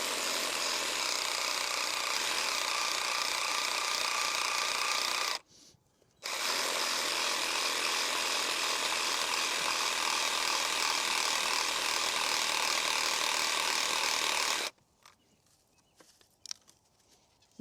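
Pruning loppers or a ratcheting pruner grind steadily through a thick, hard snowball bush cane during a rejuvenation prune, with close, dense mechanical clicking that breaks off once briefly and then stops near the end.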